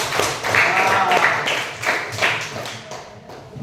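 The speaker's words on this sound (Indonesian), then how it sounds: "Beri tepuk tangan atas dulu" A class claps together during a maths lesson, in a quick, steady rhythm, close and fairly loud, tapering off slightly at the end.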